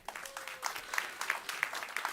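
Audience applauding the culinary partner who catered lunch at a food security event, a sparse, fairly quiet patter of claps with a few sharper individual hits standing out.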